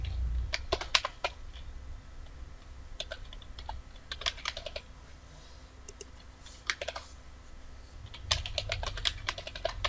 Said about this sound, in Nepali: तपाईले यहाँ चाहिँ यसरी टाइप गर्नुहुनेछ तिथिहरू